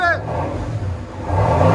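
A 2023 Chevy Silverado LTZ with a 6.2L V8 and Borla S-Type cat-back dual exhaust revs close by, its deep rumble dipping and then swelling louder toward the end, with a brief voice at the start.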